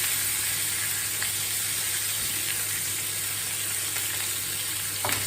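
A burger patty sizzles in a pan on full heat, a loud, steady, close frying hiss that carries on without pause, with a faint hum underneath.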